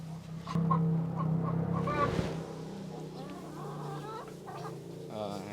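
Rhode Island chickens clucking and scratching in their coop, with a few soft, close clucks and rustling over a steady low hum, no speech.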